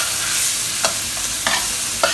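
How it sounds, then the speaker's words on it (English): Chopped garlic and a thinly sliced red onion fry on low heat in butter and oil for garlic white pepper crab, giving a steady close sizzle with a few short scraping stirs. "You add in 1 whole bulb of garlic chopped up and 1 medium-sized red onion sliced thinly."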